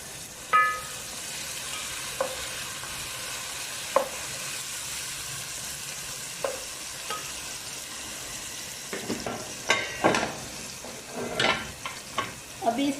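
Fresh ginger garlic paste frying with onions in a pan for a pulao, a steady sizzle with occasional stirring scrapes that grow busier and louder toward the end, no talking.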